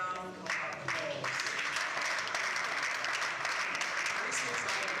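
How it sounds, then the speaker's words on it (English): An audience breaks into a sustained round of applause, dense steady clapping that swells quickly and holds at an even level throughout. "can we give Asbon an outstanding round of applause"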